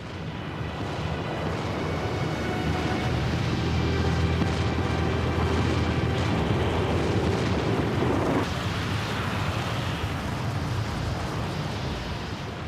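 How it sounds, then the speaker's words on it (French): A volcanic eruption explosion at Pompeii roars as a dense, continuous blast of rumbling noise, loud and sustained, with a sudden shift in texture partway through. "L'explosion ouvre la seconde phase de l'éruption."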